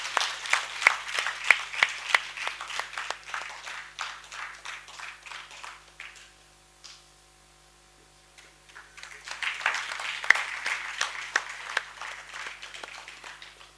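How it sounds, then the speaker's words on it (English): Scattered clapping from an audience at a young achievers award conclave, with sharp individual claps, a quiet lull in the middle, then a second round of applause resuming. "A big round of applause for him."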